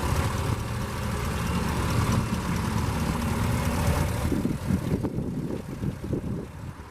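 A 2017 GMC Yukon Denali with a 6.2 liter V8 idles steadily with a low, even engine rumble and a broad hum, fairly close, joined by faint mechanical clunks near the end.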